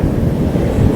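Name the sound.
wind blowing on a beach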